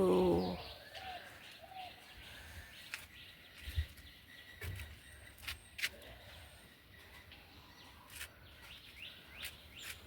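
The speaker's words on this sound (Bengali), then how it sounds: "পাখিদের কুজন" Morning birdsong at dawn in spring, with soft pigeon or dove cooing and scattered chirps and tweets heard at a distance over a quiet background, with no talking.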